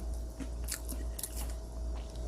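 Close, crisp crunching as a potato fried in garlic oil is bitten and chewed, a few brittle crackles in quick succession against a quiet, low hum.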